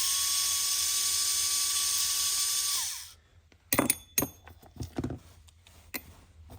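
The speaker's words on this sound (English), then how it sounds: "if you've got a drill like this, you don't have to have it" A rechargeable power drill runs for about three seconds with a steady whine that slowly drops in pitch as the low battery fades, then cuts out, followed by a few clicks and handling knocks.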